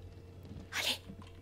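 A character in the video game A Plague Tale: Innocence lets out a single short, soft sneeze in the middle of a quiet, low background.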